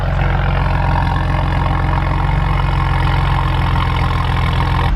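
A Saab 9-3 engine idles steadily and loudly nearby, a constant low rumble with a rhythmic pulse throughout.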